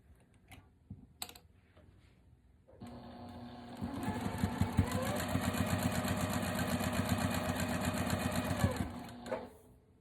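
A sewing machine runs steadily for several seconds, stitching the seams of a cotton puzzle quilt block up close, with a faint pause and a few clicks before it starts.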